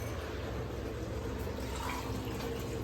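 Water pours steadily onto rice for cooking, six glasses of water for three of rice. It is a continuous, even splashing fill at moderate volume, with no voices.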